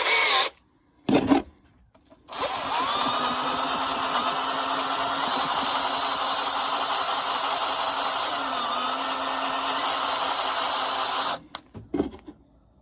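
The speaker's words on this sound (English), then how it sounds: "it's going to be spinning in my drill bit" A power drill with a 25/64 bit whirs in a steady, loud grind through deer antler for about nine seconds. It is bracketed by short bursts of drilling and brief pauses at start and end.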